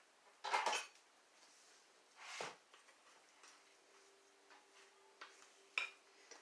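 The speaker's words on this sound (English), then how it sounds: "use 2 utensils to transfer the dough out so your hands don't get sticky" Two kitchen utensils scoop chocolate and peanut butter cake mix cookie dough onto a parchment-lined cookie sheet, giving a few sharp metallic clinks and scrapes separated by quiet pauses, close and fairly soft.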